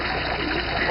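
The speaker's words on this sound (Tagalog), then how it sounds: "Walang lumalabas na mainit na tubig dito sa shower." Shower water running steadily in a bathroom, a continuous hissing spray at close range with no breaks, heard alone without voices.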